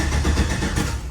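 A junkyard LS engine swapped into a 1969 Pontiac GTO cranks over, low on compression. A steady, loud, churning starter-and-engine drone runs throughout, close up.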